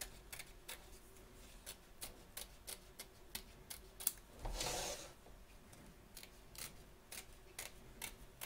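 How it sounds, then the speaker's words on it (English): Scissors snipping away embroidery fabric and stiffener around a hoop, a series of quick, close, crisp cuts in an irregular rhythm with a soft rustle of material partway through. "So turn your hoop over and trim away, taking care not to cut your stitches."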